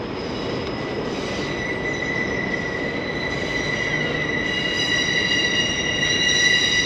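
A loud freight train rumbles past close by as it rounds a bend, steel wheels squealing in steady high whines over a continuous heavy roar.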